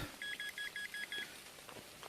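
Metal detector signal from a dig in a forest at an old village site: six short, evenly spaced electronic beeps in a quick run, fairly close, with light rain in the background and no talking.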